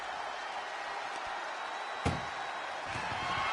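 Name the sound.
ambulance door being shut, WWE 2K24 video game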